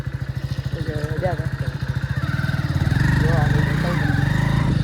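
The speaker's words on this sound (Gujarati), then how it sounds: "હવે બાઇક લઈને આવ્યા છે" A motorcycle engine idling and revving nearby, its pulsing putter rising in pitch and loudness, with people talking over it.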